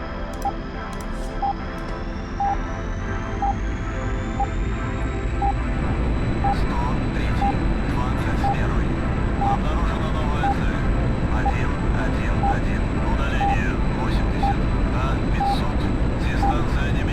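A jet aircraft taking off in the DCS flight simulator roars steadily as the engine whine rises in pitch, with a voice talking over the loud, constant rumble.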